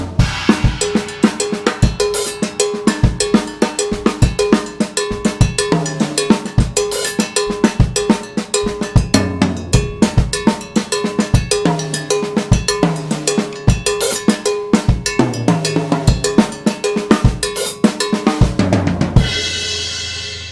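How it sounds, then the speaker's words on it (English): A songo drum groove on a kit plays loud and continuous, a busy syncopated pattern of sharp repeated strikes with left-hand accents falling on the tom or hi-hat cymbal, ringing out alone at the end. "now I'm going to play the and of 3 on either measure at random, either on the tom or the hi-hat cymbal"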